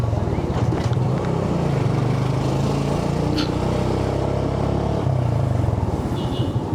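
Four motorcycles riding together in the hills of Bandarban near Ruma Bazar, a close continuous engine drone with pulsing exhaust and shifts in pitch as they move along.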